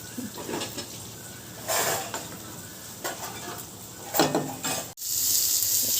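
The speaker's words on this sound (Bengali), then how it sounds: "আলু ভাজলাম এখন পটল ভাজছি" Potatoes and pointed gourd frying in a pan give a steady close sizzle, with a few louder bursts of hissing and faint utensil scrapes, and a brief pause near the end before the frying continues.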